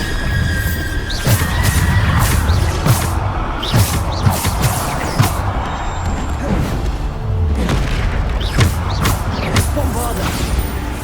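Bombarda spell explosions in the video game Hogwarts Legacy on PC land as repeated booming thuds and crashes amid combat whooshes, with a voice shouting spell names over the action.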